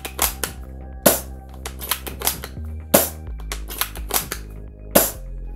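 Airsoft pistol shots through a homemade silencer: a series of sharp, snappy cracks at irregular intervals, some close together in pairs, over a low steady hum, with no voices.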